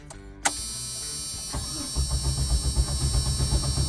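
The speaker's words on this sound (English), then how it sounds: "Okay, boss, I start the truck real good." A truck engine cranks over after a sharp click, then catches and settles into a rough, pulsing run, loud and close.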